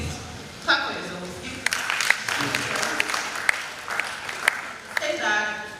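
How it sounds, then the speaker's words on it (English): Attendees at an entrepreneur summit clap for themselves: scattered, uneven claps and a light round of applause rise and fall while a voice talks over it. "So please clap for yourselves."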